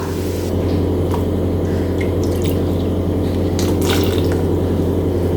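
Water pours into a pot in a steady stream, with splashes and drips over a low background hum.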